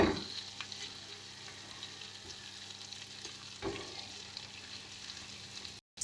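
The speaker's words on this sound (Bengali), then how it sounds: "যতক্ষণ না আদার কাঁচা গন্ধটা যাচ্ছে, ততক্ষণ কিন্তু এটাকে আমরা ভালো করে একটু মিশিয়ে নেব" Ginger paste and spices sizzle steadily in a hot pan for Kashmiri-style potato curry, a continuous close frying crackle with a few scraping clinks from the stirring spoon.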